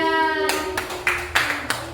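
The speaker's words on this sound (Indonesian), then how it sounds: "Tepuk tangan buat kelompok 3" A few separate hand claps in a classroom for a group of students, sparse and irregular, following a held sung or spoken tone at the start.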